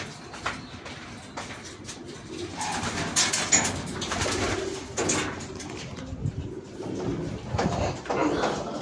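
Pigeons cooing, a few soft, low throaty coos that repeat irregularly over a busy background with other birds and faint voices of people talking, at a racing pigeon loft.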